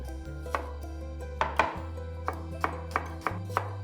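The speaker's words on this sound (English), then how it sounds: "We'll move on to cutting a red onion." A knife cutting a red onion on a cutting board in a home kitchen, about eight crisp chopping thuds at an uneven pace, close and clear over a steady low appliance hum.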